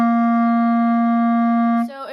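Clarinet sounding one long, steady, full note with a correct embouchure, rich in overtones and fairly loud, held alone for nearly two seconds before cutting off.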